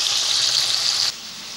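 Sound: meat frying in a pan

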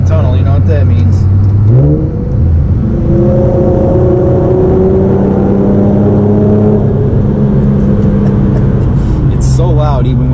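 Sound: tuned Infiniti G37 engine revving loudly in a tunnel

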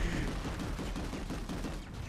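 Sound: gunfire in Planetside 2 video game

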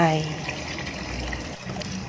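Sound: plain water poured into pan of toasted soup ingredients

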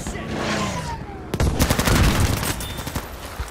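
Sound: gunfire in a video game

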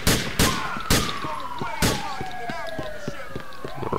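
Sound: gunfire in GTA IV video game

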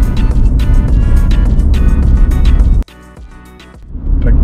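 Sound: police car passing on highway

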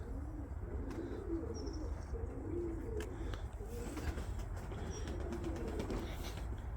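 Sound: birds cooing, likely pigeons

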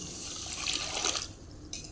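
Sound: water being poured into sugar syrup for nannari sharbat

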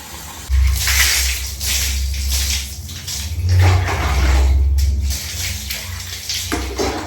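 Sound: washing a cup with water

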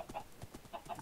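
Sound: chickens clucking in the video game Minecraft

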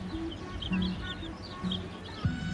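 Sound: young chicks

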